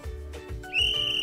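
A whistle sounds as a sharp, sustained high-pitched tone that begins partway through, loud and close, over a low background hum.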